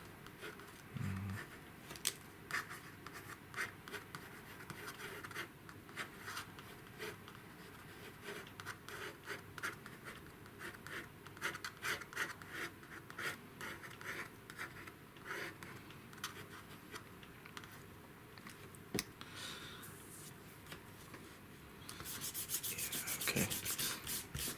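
Pencil strokes scratching and rubbing across paper during loose sketching of a head, a steady stream of close, soft scraping strokes with brief pauses, one short spoken word near the start.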